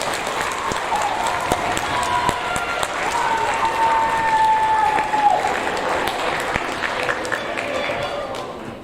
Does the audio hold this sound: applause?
yes